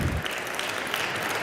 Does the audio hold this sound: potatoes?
no